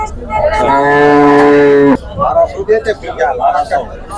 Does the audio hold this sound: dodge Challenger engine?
no